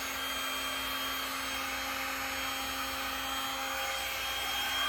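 A heat gun blows steadily during resin pouring, a loud continuous whooshing roar with a constant whine running through it from start to finish.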